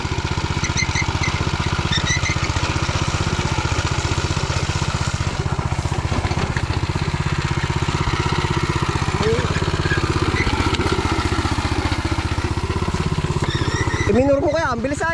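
A hand tractor's engine runs steadily up close throughout a crossing, a continuous loud mid-pitched chug, with people talking over it and a brief higher squeal near the end.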